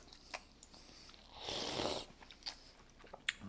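Korean instant noodles being tasted, with a few soft close bites and chewing crunches, one longer rustling stretch in the middle, quiet and without talk.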